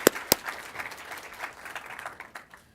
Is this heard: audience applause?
yes